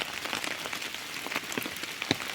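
Rain patters steadily on an open umbrella held overhead outdoors while mushrooms are gathered, with dense scattered drops tapping close by and a few sharper hits.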